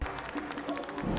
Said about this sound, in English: Give him a round of applause here, folks.